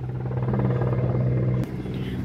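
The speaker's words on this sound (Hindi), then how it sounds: "आज ये हेलीकॉप्टर भी बड़े आ रहे, पता नहीं क्या हो गया, ये 10वां निकलने लगा है" A helicopter passes over a summer home garden, a loud steady droning rumble with a humming tone that fills the whole stretch, one of many flying through that day.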